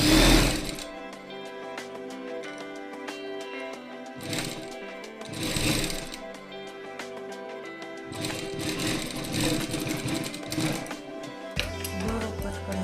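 A sewing machine stitching a Rajputi kurti, with several bursts of rapid mechanical whirring separated by short pauses and quieter handling noises.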